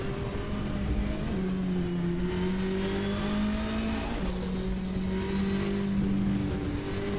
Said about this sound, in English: that Sierra Cosworth is limping around at the moment